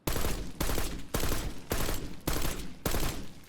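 A SWAT 5.56 rifle fires in Black Ops 6 in six sustained full-auto bursts, each about half a second long, loud and close with brief gaps between them and no talking.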